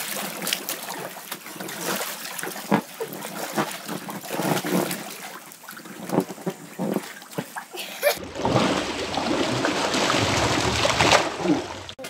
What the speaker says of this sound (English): another thing I like to do is go swimming in my pool